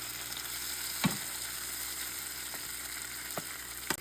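Squash slices pan-frying in olive oil give a steady, close sizzle throughout, with a few sharp clacks and scrapes as pieces are turned in the pan.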